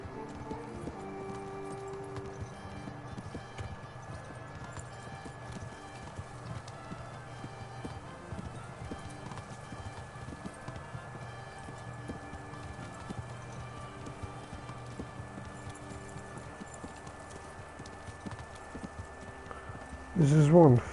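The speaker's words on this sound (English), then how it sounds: "This is one fast fucking horse." A horse gallops in the video game Kingdom Come Deliverance, a steady run of hoof clip-clops under continuous game music and ambience, with a brief louder burst at the very end.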